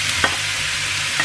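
Onion dropped into a hot frying pan, giving a loud, steady sizzle throughout with a couple of soft scraping stirs.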